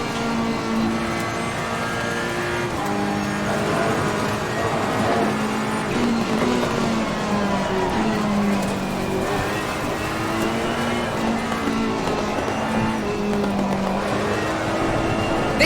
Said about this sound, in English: Alright Morgan, we're gaining on the car in front